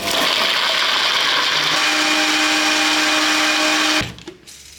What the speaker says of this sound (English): This will go in my blender with a third cup of water. I like to blend this as smooth as possible.